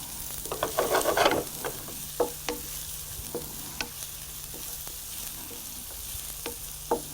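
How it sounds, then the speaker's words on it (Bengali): Chopped onion drops into hot oil beside golden-brown prawns, a burst of loud sizzling and crackle at first, then settling into a steady low fry with scattered stirring scrapes and clicks, no voices. "আমরা এখন 2 টেবিল চামচ পরিমাণ চপড অনিয়ন দিয়ে দিলাম"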